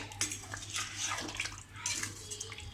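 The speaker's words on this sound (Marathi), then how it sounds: "2 ग्लास आपण पाणी टाकूया." Two glasses of water are poured into chicken masala gravy in a pressure cooker, giving a steady close splashing pour with faint clinks of a pot and no voices.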